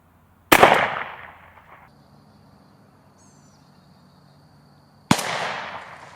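Two sharp, loud shotgun blasts from a .410 loaded with TSS shot fired at a turkey target 40 yards out, each a sudden crack trailing into a rolling echo across open ground, with a quiet gap and faint ambient hum between them.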